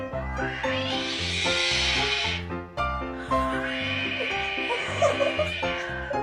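A cat hisses in sustained, breathy bursts, one long hiss and then another after a short break, set against steady background music.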